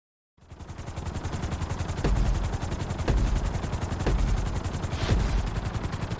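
A helicopter in Grand Theft Auto 5 drones steadily throughout with a rapid rotor chop, loud and close, with periodic heavier thumps; no one speaks.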